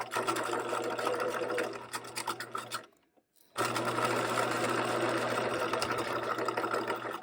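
A sewing machine stitches a pants seam pocket, running in steady, loud mechanical bursts that cut out briefly for under a second and then resume at a constant, even whirring pace, with no voice heard.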